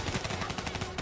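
Automatic rifle gunfire in the Call of Duty Black Ops 3 game, a rapid continuous burst of shots at close range, loud and steady for about a second.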